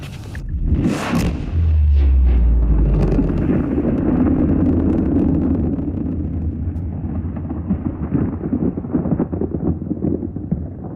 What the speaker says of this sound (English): now our spaceship has exploded